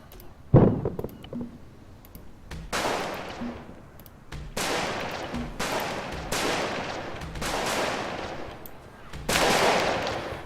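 Gunfire from an Arma 3 combat mission with CSAT forces, modded with Blastcore Phoenix and JSRS DragonFyre sound: repeated heavy bursts and booming shots arrive in waves, loud and reverberant, with a sharp crack near the start and rolling echoes between volleys.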